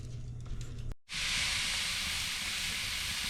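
Ribeye and sirloin steaks in a hot pan give a loud, close, steady hiss that begins abruptly after a brief silence and continues without pause, with no talking.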